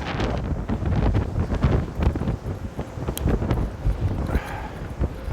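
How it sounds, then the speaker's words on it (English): Strong wind on a riverside walk buffets the microphone with continuous low rumbling gusts, steady and loud throughout, with no voices. "It's going to get quite windy up here."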